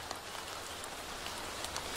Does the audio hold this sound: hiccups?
no